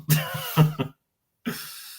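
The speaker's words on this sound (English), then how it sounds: "having a little coughing fit again" A few sharp, harsh coughs in quick succession, then a pause and one more rough cough, close and fairly loud.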